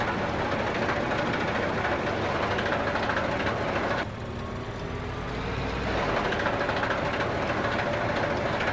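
A small tractor's engine drones steadily while roadside mowing in Farming Simulator 15, a loud continuous rumble and whir that dips briefly midway before resuming at full strength.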